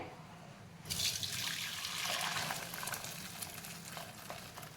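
Cooked dal water draining through a puran sieve into a pot for puran poli, a steady wet rush and trickle that starts after a second and runs on close and continuous.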